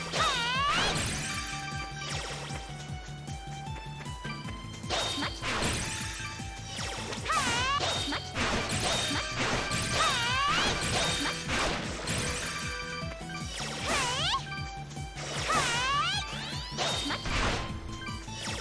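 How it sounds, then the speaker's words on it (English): Objects are smashed in the video game Ys: Memories of Celceta in rapid repeated crashes and thwacks, mixed with swooshes, sparkly pickup chimes and game music, loud and dense throughout. "Time for more smashing."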